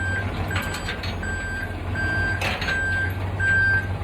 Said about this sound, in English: It's important not to be directly behind the truck when he's coming at me.